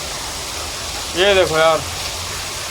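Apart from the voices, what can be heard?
rain pouring down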